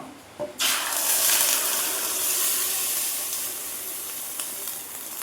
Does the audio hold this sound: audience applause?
no